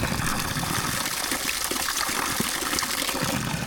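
Stream water in the Malvern Hills gushes steadily into a bottle, a continuous close-up rushing and gurgling wash with no voices.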